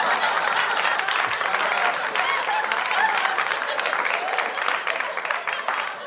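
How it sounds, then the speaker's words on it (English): A canned applause sound effect plays: continuous, fairly even crowd clapping with a hint of cheering, steady throughout and tapering slightly at the close. "Yep, I'm giving myself an applause."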